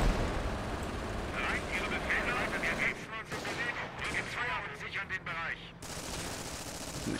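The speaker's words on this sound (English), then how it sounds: "Machine guns here." Battle noise in the strategy game Company of Heroes, with rapid bursts of machine-gun fire and heavy artillery booms crackling in dense clusters at mid distance, a voice talking beneath for part of it.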